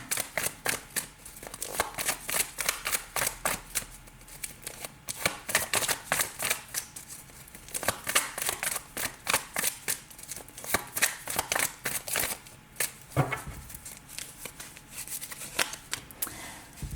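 Tarot cards being shuffled in repeated rhythmic riffles and flutters, close and crisp, steady throughout with no talking.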